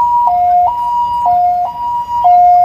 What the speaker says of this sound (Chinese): 救护车鸣笛声响遍整个花莲港，一旁警车也随之出动。